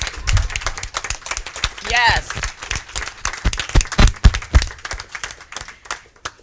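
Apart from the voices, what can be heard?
audience applause at mayoral candidates forum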